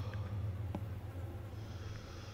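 Heavy breathing in a horror video game set in a haunted Soviet summer camp, a steady low rasping, snore-like breath that continues without a break, with no talk.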